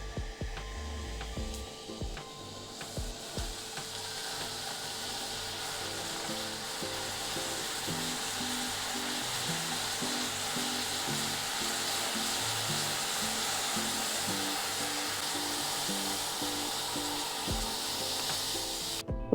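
Tea poured into a pre-heated clay pot for smoky tandoori tea hisses and sizzles steadily for a long stretch, close and fairly quiet, with a few faint knocks at the start and no talking.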